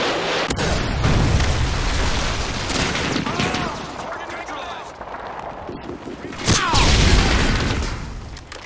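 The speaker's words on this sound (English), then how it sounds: "Friendly Predator missile incoming." Predator missile blasts in Call of Duty: Modern Warfare 2 hardcore Search and Destroy, loud booming explosions with crackling debris and gunfire, a big blast near the start and another heavy one late, with voices underneath.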